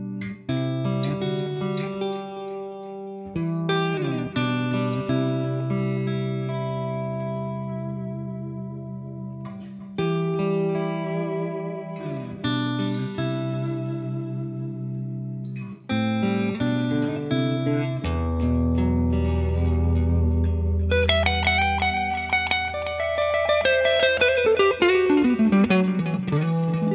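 Electric guitar with a Tele-style neck pickup played through effects, clear sustained chords and single notes with chorus-like shimmer and echo, ending in a denser, brighter strummed passage; no talking.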